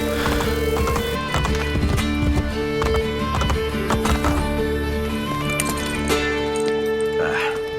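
Steady clip-clopping hoofbeats of horses running in the video game Assassin's Creed: Brotherhood, continuous and fairly close, layered over a constant musical drone with occasional brief sharp noises.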